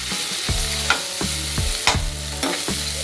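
Tomatoes and pasta masala stirred in a hot pan for masala pasta, with a steady sizzle broken by a regular scrape of the spoon about every half second, close and fairly loud, no talking.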